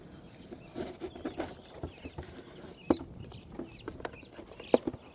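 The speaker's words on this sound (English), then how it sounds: "there's this giant bird up on top of the power line that's just like squawking all the way" Large bird squawking from atop a power line outdoors during a Texas storm chase, irregular short harsh calls at varying loudness over faint background noise.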